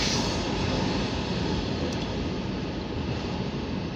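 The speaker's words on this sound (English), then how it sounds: "Looks like the longest Norfolk Southern train we're gonna get." A Norfolk Southern mixed manifest freight train rolls past near Erie, Pennsylvania, a loud continuous rumble and wheel roar filling the whole stretch without pause or talk.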